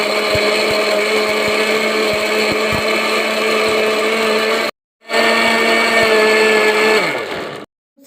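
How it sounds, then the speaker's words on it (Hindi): A kitchen blender whirs at high speed through pomegranate juice, a loud steady motor whine that cuts off briefly, restarts, then winds down and stops near the end. "सब चीज़ें हमने शामिल कर दी हैं ब्लेंडर में और अब हम इसको ब्लेंड करते"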